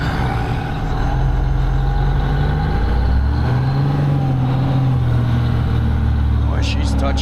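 1972 Peterbilt cabover truck hauling a trailer pulls away, its loud, close diesel engine rumbling and rising in pitch midway as it gains speed, with a brief sharp hiss near the end.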